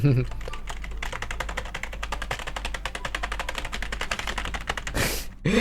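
A computer keyboard is pressed rapidly and continuously during play of the game ALONE. The crisp clicks sound close, come in a fast steady stream and end with a louder burst.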